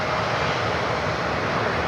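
A United Express Embraer E175 regional jet out of Dulles passes near Cleveland Hopkins airport at night, its engines a loud, steady broadband roar that fills the whole short stretch without pause or voices.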